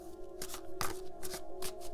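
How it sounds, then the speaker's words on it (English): Tarot cards being shuffled by hand on a small table, a series of crisp riffling bursts in an irregular rhythm, close and fairly quiet, with no talk. "And of course you can skip past all this shuffling."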